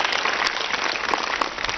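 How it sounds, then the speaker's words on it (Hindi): Children at a student camp in Haridwar clap together in a steady, hissing burst of applause, loud and unbroken, without speech over it. "एक बार बहुत तालियां बजाओ।"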